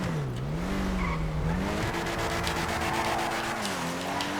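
An Ubermacht Zion Classic in GTA Online drifts with its engine revving in a wavering, rising and falling pitch, while a steady rush of tire noise runs underneath. The sound is continuous and fairly loud, with no talking.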